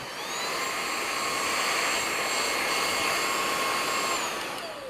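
An Aposen H250 cordless stick vacuum cleaner runs steadily with a loud, smooth motor whine and rushing exhaust air, rising at the start and tapering slightly at the end, with no talking.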